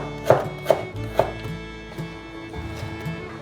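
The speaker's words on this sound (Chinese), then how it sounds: "把红萝卜切丝" A knife chops carrots into shreds on a board in a home vegan kitchen, with three sharp, close knocks in a quick uneven rhythm, followed by softer, fainter cuts and no talking.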